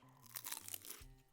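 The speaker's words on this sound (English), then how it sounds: "Crunch, bro, that crunch." Crunchy fried potato logs are bitten and chewed up close, giving a short run of loud, crisp crunches.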